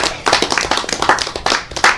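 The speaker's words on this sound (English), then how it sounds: "I just wanted a round of applause for both Ralph and Dr. Fixen" A small audience claps after a talk on marijuana and senior citizens, giving a brief, close burst of uneven hand claps that lasts about two seconds.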